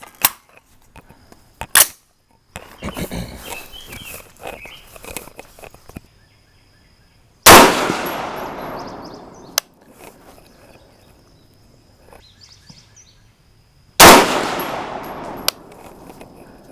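Shots from a 6.5 Grendel AR rifle firing 120-grain Speer Gold Dot handloads, recorded at close range: two loud, sharp cracks several seconds apart, each followed by a long ringing decay, with quieter handling clicks and rustling between them.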